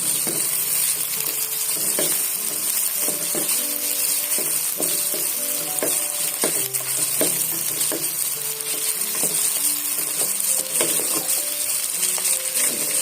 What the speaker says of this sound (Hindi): 1 मिनट शिमला मिर्चों को मैंने फ्राई किया